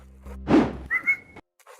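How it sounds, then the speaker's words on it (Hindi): A person whistles a short two-note call, a thin sustained tone following a brief breathy burst and thump, heard close in a quiet room. "मुझे सीटी मारियो पहले"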